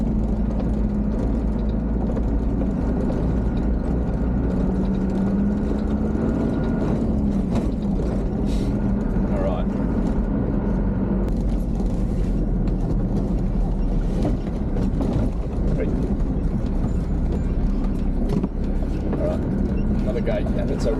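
A vehicle crawls in low second gear over a rocky outback track toward Rawlinna on the Trans Access Road, its engine rumbling steadily with knocks and rattles from the rough ground while people talk over it.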